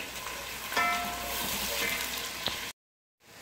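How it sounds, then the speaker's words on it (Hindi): Onions frying lightly in oil for chana pulao, a steady close sizzle with a few stirring clinks, then it cuts to silence near the end. "प्याज को ज़्यादा फ्राई नहीं करना है, बिल्कुल हल्का सा लाइट गोल्डन"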